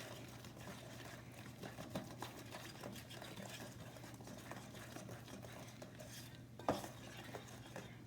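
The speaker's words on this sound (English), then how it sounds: "I'm going to get this Crisco all combined here." A spoon stirs Crisco into a thick cornbread-style batter in a bowl, making a steady, soft scraping and sloshing under a low hum, with one sharper clink near the end.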